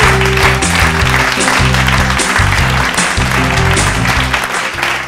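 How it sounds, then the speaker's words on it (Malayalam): An audience claps to welcome new children joining the Little Scholar television show: a steady, dense wash of applause that runs the whole time, loud and close, with music playing underneath. "സ്നേഹത്തോടുകൂടി ഒരുപാട് ആദരവോടുകൂടി അവരെ നമുക്ക് കൈയടിച്ച് സ്വാഗതം ചെയ്യാം."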